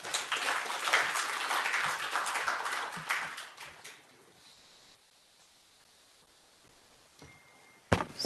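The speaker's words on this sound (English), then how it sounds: "please give him a big round of applause" Audience applause at a workshop on multi-sensor aerogeophysical surveys, fairly loud for about four seconds and then fading out into quiet room noise, with a brief knock near the end.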